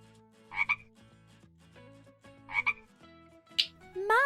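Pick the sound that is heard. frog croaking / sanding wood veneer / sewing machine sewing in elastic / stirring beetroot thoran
frog croaking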